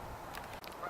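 Geese honk on a wide pool swollen by high water, with mallards about; the calls come as brief, fairly loud bursts over a steady outdoor background, no voices present.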